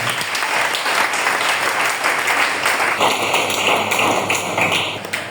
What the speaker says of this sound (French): Tu veux acclamer, acclame-le très fort.